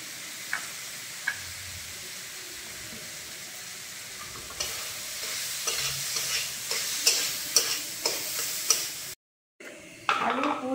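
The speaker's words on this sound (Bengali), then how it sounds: "এবার এই আলুগুলো ভেঙে ভেঙে দিয়ে দেবো।" Potatoes are broken up and stirred into a fried spice mix in a pan. A spoon scrapes and taps in a repeated rhythm over a soft sizzle, with a brief silent gap before stirring resumes.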